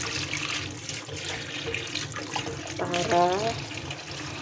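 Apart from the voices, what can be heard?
tap water running while washing harvested vegetables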